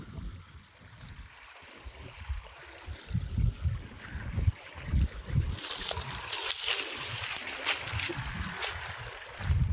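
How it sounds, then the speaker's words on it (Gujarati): Irrigation water mixed with weedkiller runs gently into a field of urad beans, a quiet trickle and slosh that grows steadier and brighter toward the end. "અડદમાં પાણી ચાલુ કર્યું"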